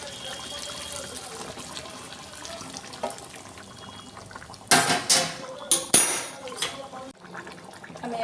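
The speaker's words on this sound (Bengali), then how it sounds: "গরম জল দিয়ে দেবো" Hot water pours into a pan of chicken curry in a couple of close splashing bursts, over a background of low kitchen clatter.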